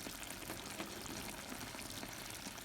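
Pork steak frying in a pan as onion is added, a steady close sizzle and bubbling with a thick sauce, constant and unbroken with no talking.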